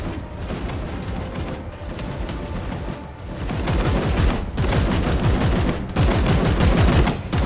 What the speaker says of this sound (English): Oh, at least I can shoot these guys.